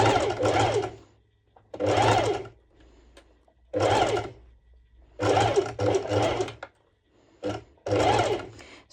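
Sewing machine running a long straight stitch to hold two layers of fabric together, in six short bursts separated by pauses, close and clear.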